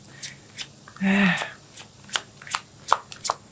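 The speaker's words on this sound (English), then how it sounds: "let's pull out a physical card for you here" Tarot cards being pulled and shuffled: a burst of riffling in the middle, then a series of crisp card slaps and flicks at a steady rhythm, close, with a voice talking briefly.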